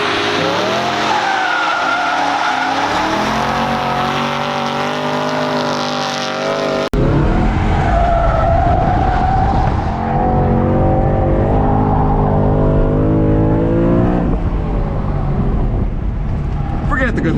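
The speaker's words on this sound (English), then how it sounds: "This is too much damn fun to slide this thing around." A tuned BMW E90 M3 slides around a track, its engine howling loudly with rising and falling revs and squealing tyres, as a driver talks over it throughout.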